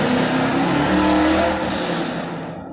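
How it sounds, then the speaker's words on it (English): A loud car roars past close by, a steady engine rumble that holds strong for about two seconds, then fades slightly as it moves away. "loud cars. Another one."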